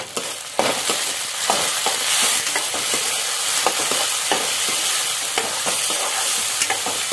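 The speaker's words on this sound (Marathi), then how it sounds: "कांदा व्यवस्थित परतून घेऊया." Onion and tomato sautéing in a pan for a Malvani-style squid masala, a dense steady sizzle up close with repeated rhythmic scrapes of a spatula stirring throughout, no talking.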